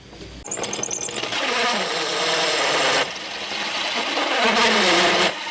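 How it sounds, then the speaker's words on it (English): Drill press boring through wood with a 90 mm hole saw: a loud, close motor whine with rasping, buzzing cutting noise that dips and rises as the saw works through the board, then stops abruptly. "using a 90 millimeter hole saw, I'm going to bore a hole all the way through"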